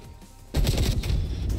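Video game gunfire, a sudden dense burst of rapid shots that breaks in after a quieter moment and rattles on continuously to the end, loud and close.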